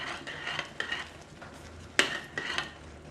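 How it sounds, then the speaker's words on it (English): Chicken rice stirred in a clay pot, with a utensil scraping and knocking against the pot in several soft, irregular strokes at close range. "So I'm just gonna give it a stir."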